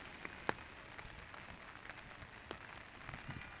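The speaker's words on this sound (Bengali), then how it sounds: "বৃষ্টি পড়তেছে।" Steady rain falling outdoors in a rural area after days of continuous downpour: a soft, even hiss with scattered drops and light taps ticking through it, fairly faint and with no talking.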